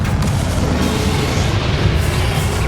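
The Confringo blasting spell erupts in Hogwarts Legacy, a loud, continuous booming roar with heavy low rumble and crackling bursts that sustains without a break and has no voice over it.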